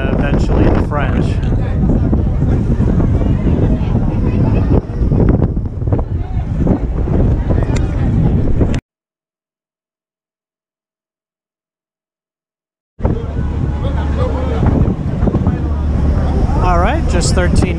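Ferry crossing from Goree Island into the port of Dakar, Senegal, at dusk: heavy wind buffeting the microphone over engine and water noise, loud and continuous, broken by a few seconds of silence before resuming.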